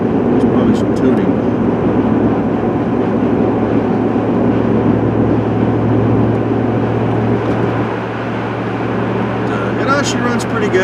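A vehicle engine that misses when cold runs steadily close by, a loud continuous rumbling drone that dips slightly in level near the end.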